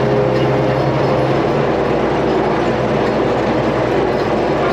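A farm tractor engine runs steadily on a Polish farm during manure hauling and meadow harrowing work, producing a loud, continuous low rumble that stays constant throughout with no talk over it.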